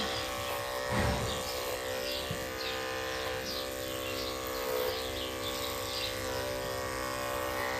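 Electric clippers buzz steadily while trace clipping a horse, a close constant motorized hum with slight changes in pitch as the blades move across the coat.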